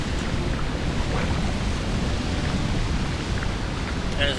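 Thunderstorm in the Wizard101 video game: steady hiss of heavy rain with a low continuous rumble of thunder underneath, even and enveloping throughout.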